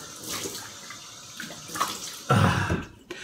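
Cold water runs from a tap at close range, starting as a faint trickle, then gushing more loudly for a moment before cutting back and stopping.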